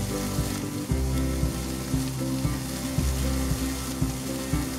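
Asparagus spears pan-frying in oil with salt and pepper on the stove, a steady close sizzle broken by regular soft knocks as the pan is worked back and forth.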